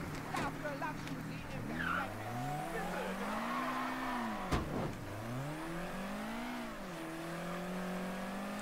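A car driven in the video game Mafia 3, its engine revving up and down through gear changes with brief tire squeals, close and steady, while someone talks over it.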